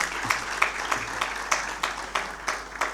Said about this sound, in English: Another round of applause to Oma.